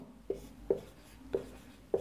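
Chalk or pen writing numbers on a board during a maths lesson, four short distinct taps and scrapes spaced at a steady, unhurried pace, close and fairly faint.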